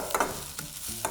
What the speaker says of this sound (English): Mix up the spices.